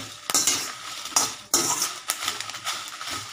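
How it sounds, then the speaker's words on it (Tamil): Dry chillies being roasted in a pan on low flame while a spoon stirs them, giving repeated sharp metallic scrapes and clinks over a faint background, with no talking. "லோ ஃப்ளேம்லேயே வச்சு வறுத்துக்கோங்க"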